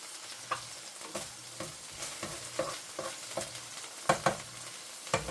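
Pork chops sautéing in a pan for a herbed tomato sauce supper, a soft steady sizzle broken by quiet scraping and knocking as the meat is moved around, heard close with no talking.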